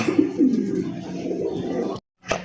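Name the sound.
pigeons cooing at a pigeon market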